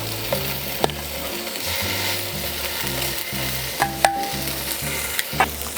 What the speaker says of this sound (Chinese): 热锅煎，煎到两面发黄。